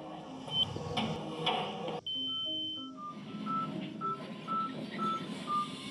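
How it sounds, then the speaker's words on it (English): A device on a landmine-detection rat's training vest holds a steady electronic beep for about a second, then a series of short, evenly spaced beeps over a low background murmur. "When the rat pulls at the ball, it just beeps."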